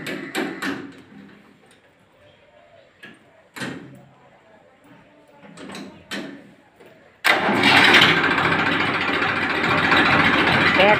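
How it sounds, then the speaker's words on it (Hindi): A 2007 Massey Ferguson 1035 DI tractor: a few clicks and knocks come first, then the diesel engine fires abruptly and settles into a loud, steady idle up close. "अभी ट्रैक्टर को स्टार्ट करवा के आवाज़ सुनवाते हैं।"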